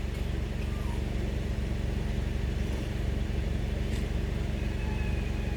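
2010 Honda CR-V engine running steadily at idle, a low, even rumble heard up close with no change in pace.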